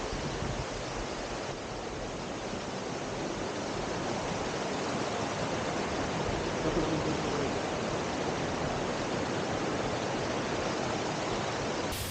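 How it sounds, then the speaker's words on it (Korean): A mountain valley stream flows steadily beside a summer hiking trail on a Korean peak, a constant broadband rush of water with no pauses and no talk. "일로 오니까 계곡이 옆에 흐르고 있고"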